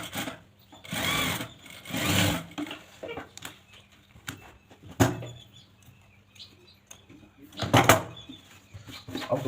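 A sewing machine stitching a trouser back pocket, several short close bursts of rapid mechanical whirring separated by pauses with handling clicks.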